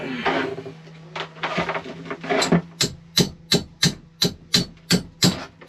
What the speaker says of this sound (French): quand petit marteau fonctionne pas, gros marteau peut-être fonctionner